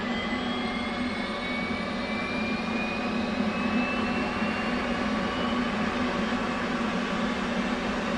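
A simulated F/A-18 auxiliary power unit spooling up in DCS World: a steady, loud turbine whine and roar with a rising high-pitched tone, continuous and alone throughout.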